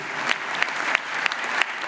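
Audience applause at a Murdoch University graduation ceremony in Dubai, a steady wash of many hands clapping through the whole stretch, moderately loud with a few sharper claps standing out.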